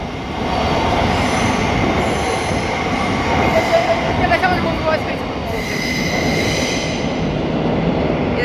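A train passes at London St Pancras low level, rumbling loudly and close with squealing wheels and rail noise throughout, while a few voices sound faintly underneath.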